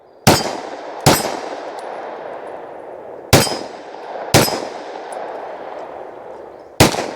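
Canik TTI Combat pistol fired at a range: five sharp, loud shots at uneven intervals, each with a ringing metallic tail, and no talking.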